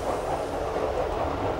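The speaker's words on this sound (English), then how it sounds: "From a Docklands Light Railway train en route to Tower Gateway, we pass a class 310 unit in West Midlands livery" From aboard a Docklands Light Railway train heading to Tower Gateway, passing a class 310 unit in West Midlands livery, a steady loud rail rumble and rushing noise fills the short stretch with no voices.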